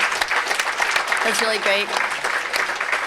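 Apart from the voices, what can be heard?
audience applause for Vince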